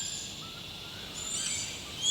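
Birds sing at sunrise during an outdoor gentle yoga session, with faint, high chirps drifting in softly toward the end over quiet background hiss.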